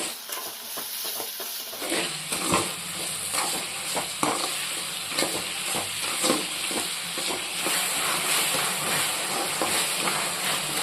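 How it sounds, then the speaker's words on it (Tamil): Tomatoes sautéing in a pan for a fish curry, a steady close sizzle and hiss that jumps louder after a couple of seconds, with occasional stirring scrapes and clinks running throughout. "சேர்த்து தக்காளி நல்லா குழைய வதக்கிடுவோம்."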